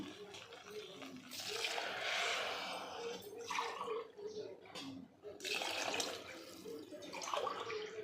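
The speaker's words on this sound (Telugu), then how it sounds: "నేనైతే 1 కప్పుకి అయితే 3 కప్పుల వాటర్ అయితే తీసుకుంటున్నాను." Water pouring into a pot for pulagam, three cups per cup of grain, in uneven bursts, splashing and gurgling at moderate volume with brief pauses between pours.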